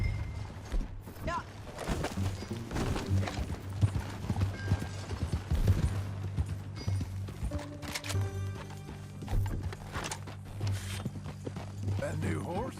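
Horse hooves clip-clopping in Red Dead Redemption 2, a steady rhythmic hoofbeat close by over a low background, with characters talking over it.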